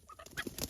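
A caught jungle fowl gives a brief, soft, close cluck or two, a quick burst of clucking.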